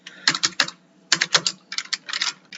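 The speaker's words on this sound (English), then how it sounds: "I'll tap T on my keyboard and I'll just write" Typing on a computer keyboard, close and crisp, irregular clusters of quick key taps in three short bursts, with no talking.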